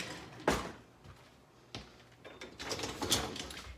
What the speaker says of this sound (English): My spatulas go in a drawer.